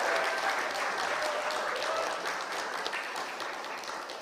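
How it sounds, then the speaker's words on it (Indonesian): An audience applauds the mayoral and deputy mayoral election candidates at a public debate in Magelang, a sustained broad clapping throughout with a faint voice briefly audible beneath it. "Yang ada di ruangan ini bisa berikan tepuk tangan dan juga suara kepada para pasangan calon."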